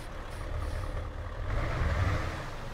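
Mercedes-Benz Travego Special Edition 17SHD-2015 bus in Euro Truck Simulator 2, a low, steady diesel engine rumble that swells slightly louder partway through, heard alone.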